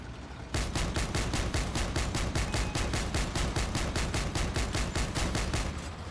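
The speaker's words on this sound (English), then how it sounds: "let's just shoot this thing real quick" Rapid automatic weapon fire from a vehicle combat video game, a loud, steady stream of evenly spaced shots that starts abruptly after a brief pause and continues unbroken to the end.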